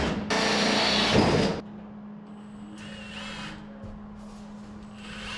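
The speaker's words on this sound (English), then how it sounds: "I'm just drilling some holes so we can put some plug welds into this floor." A power drill bores holes through sheet metal floor pans on a car for plug welds, one loud continuous high-pitched grinding burst of about a second and a half, then quieter shop background.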